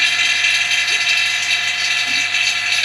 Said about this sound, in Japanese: なので今、ポンプをオン。